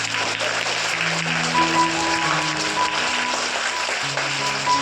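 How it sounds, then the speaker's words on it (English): Applause from an assembly audience for the LKG D students after their superheroes presentation, a steady, dense clatter of clapping filling the room throughout, with sustained music tones running underneath. "Let us give them a big round of applause."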